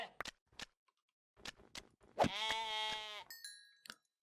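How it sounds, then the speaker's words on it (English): Sheep in an exploration video game bleat in a clear, drawn-out wavering cry, preceded by short clicks and soft game sounds, with a brief high chime after. "We're getting so much wool just from killing these poor sheep things."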